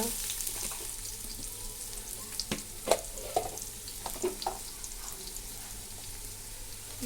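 Ginger and garlic paste frying in a pot for chicken biryani, a quiet, fairly faint sizzle with scattered clinks and scrapes of stirring, close by with no one talking.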